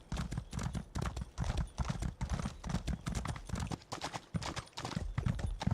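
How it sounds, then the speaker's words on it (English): Rhythmic horse hoof clip-clops at a steady, unhurried walk in the video game Elder Scrolls Online, loud and close throughout with a faint background layer. "It doesn't really matter that my horse isn't going very fast."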